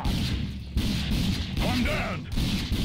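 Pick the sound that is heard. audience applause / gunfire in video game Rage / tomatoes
gunfire in video game Rage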